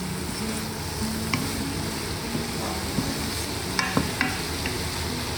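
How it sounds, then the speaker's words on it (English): Radish cooking in a pan with grated ginger, a steady close sizzle of frying with a few soft scrapes and clinks of a spoon stirring near the end. "put in the grated ginger. Give it a stir and cook for another 7 minutes."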